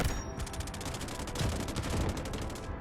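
A SCAR-H rifle in Delta Force Mobile fires as rapid automatic gunfire, a steady, evenly spaced stream of shots at moderate volume with no voice over it.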